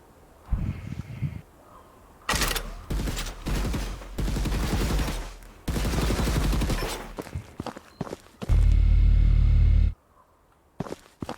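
Rapid bursts of laser turret fire from the game Gearstorm, loud dense volleys broken by short pauses, with a heavy low-frequency blast near the end.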